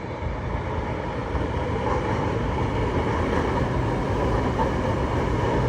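A light rail train rumbles steadily and loudly into an elevated LRT station in Manila, a dense continuous roar with no clear pauses.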